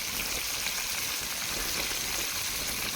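Fish fries in hot oil in an outdoor catch-and-cook setup, a steady broadband hiss of bubbling oil that stays even throughout, with no voices.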